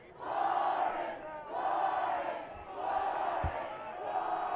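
A sizable crowd at a boys' high school soccer final roars and cheers in repeated swells, rising and falling every second or so, fairly distant with no clear individual voices.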